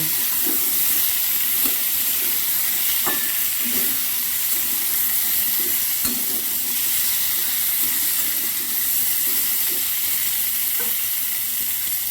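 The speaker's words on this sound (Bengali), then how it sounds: "ভেজে নিয়ে কুমড়োগুলো আলুগুলো দিয়ে একটু কড়াতে কষে নেব।" Pumpkin and potato pieces sizzle and fry in a wok, a steady close hiss of oil running throughout with occasional stirring scrapes and clicks, no voices.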